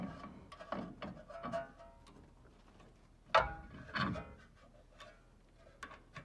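A torque wrench tightens a tie rod during suspension leveling work on a Ram truck, giving close, irregular ratcheting clicks with one sharper, louder click partway through.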